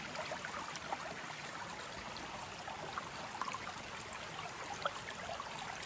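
Flowing water of a stream makes a steady, quiet broadband rush with small trickling splashes, continuous for the whole stretch with no voices.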